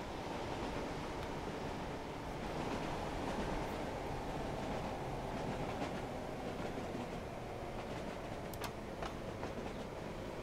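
Trains run along a coastal rail line in Transport Fever 2, a continuous rumbling roll with faint clickety-clack over steady wash like surf, with no talking.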